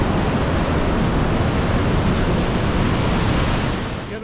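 Rain-swollen river water rushes beneath a bridge on the trek to the Valley of Flowers, a loud, continuous close roar that eases slightly in the final moments.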